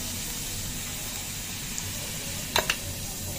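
Nigella seeds and tea leaves crackle in hot oil, a steady soft sizzle with a couple of sharper pops near the end.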